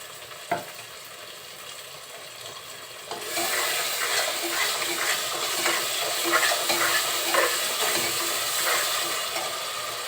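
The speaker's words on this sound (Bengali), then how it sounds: "তেলের সাথে মশলাগুলো আমি খুব সুন্দরভাবে কষিয়ে নিব" Ground cumin paste and spices fry in hot oil for a beef curry, a quiet start jumping at about three seconds into a loud, steady sizzle with scraping stirs punctuating it, no voices.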